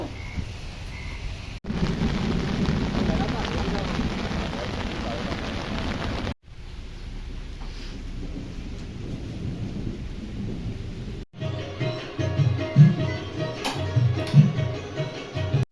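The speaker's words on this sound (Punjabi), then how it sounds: "ਮੀਂਹ ਹਲੇ ਪਈ ਜਾਂਦਾ ਆ" Steady rain hisses while deep thunder rumbles roll through in long waves, growing choppier and more uneven near the end.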